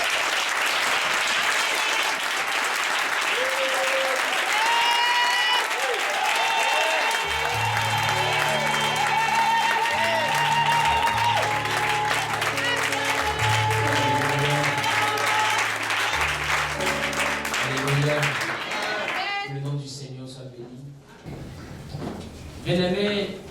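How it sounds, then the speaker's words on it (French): A church congregation applauds loudly and continuously, with cheering voices and a bass-heavy musical backing under the clapping that thins out near the end. "tu vas donner une offrande d'acclamation à Jésus"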